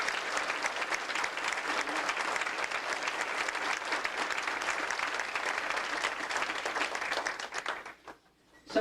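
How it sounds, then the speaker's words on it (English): An audience claps steadily for Sharon, the homecoming weekend organizer, at a 1993 alumni homecoming gathering. The dense, sustained applause lasts about eight seconds, then fades quickly. "let's give Sharon a big hand of applause"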